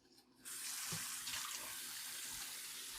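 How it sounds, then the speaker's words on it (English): Cold water gushes from a kitchen sink tap while pasta drains, a steady close splashing hiss that begins abruptly after a short quiet moment and continues alone. "always run cold water."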